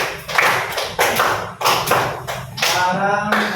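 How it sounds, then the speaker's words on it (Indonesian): A classroom of students claps for a student group after its presentation, several separate bursts of hand clapping and tapping, close and fairly loud, with brief pauses between them. "tepuk tangan buat kelompok 2"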